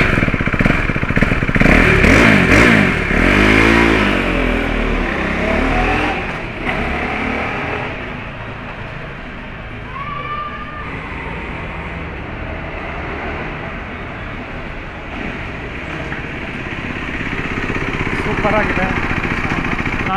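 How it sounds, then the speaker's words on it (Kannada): KTM RC390 motorcycle on a test ride, its engine revving and droning steadily for the whole stretch, loud and close with rising and falling pitch under a continuous roar. "ನಿಮಗೆ ತುಂಬ ಜನರಿಗೆ KTM RC390 ಇಷ್ಟ, ಸೊ ಅದನ್ನೇ ಫಸ್ಟು ರೈಡ್ ಮಾಡೋಣ."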